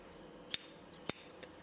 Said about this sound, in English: This is a pair of duckbill scissors.